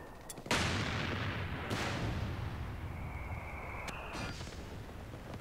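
Heavy gunfire and booming artillery-like blasts in the video game Company of Heroes 3, several sharp reports with rolling echoing tails over a sustained battle din, loud and close.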